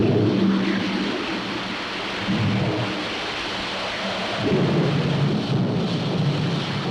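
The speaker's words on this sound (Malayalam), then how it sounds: "മഴയും കാറ്റും കൂടി വരുന്നുണ്ട്" Heavy rain and wind in a storm, a thick continuous roar with low gusty swells rising and falling, loud and close throughout.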